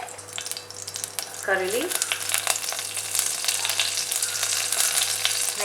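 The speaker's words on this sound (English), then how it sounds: "To the ghee I'm adding mustard seeds, cinnamon, fennel seeds." Mustard seeds, cinnamon and fennel seeds crackle and sizzle steadily in hot ghee, with curry leaves added partway for a louder burst of frying. A brief spoken phrase is heard over the sizzling.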